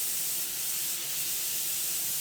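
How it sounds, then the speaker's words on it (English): Airbrush spraying cleaner through its nozzle, a soft continuous airy hiss held steady and close, with no pauses or voices. "You keep spraying it until you see it disappear."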